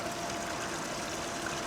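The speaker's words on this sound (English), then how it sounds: "You can see the water here coming out" Hot spring water flows out at the ancient Hammat Tiberias site, a soft continuous trickling rush heard faintly and alone.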